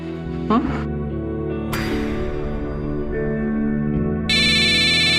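A mobile phone rings, its bright, loud, repeating electronic ringtone cutting in near the end over a background of steady tonal music.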